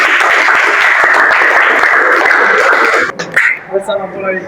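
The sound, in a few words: audience applause for group 4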